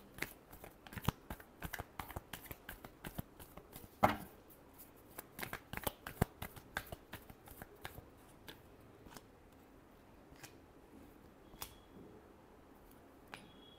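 Tarot cards being shuffled close up, a rapid series of crisp riffling snaps and flicks, denser at first and thinning out toward the end.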